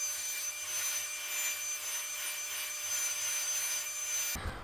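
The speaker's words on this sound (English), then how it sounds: "So I'm gonna keep vacuuming and make the place look pretty clean." A Hoover Pet Max bagless vacuum cleaner runs steadily across an apartment floor, a loud continuous whine and rush that cuts off abruptly at the end, with no talking.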